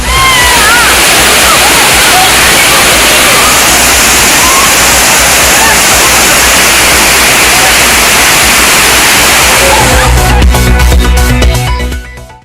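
Thirparappu waterfall in Kanyakumari district, crowded with visitors, gives a loud, steady close-up roar of rushing water that continues unbroken before cutting off near the end.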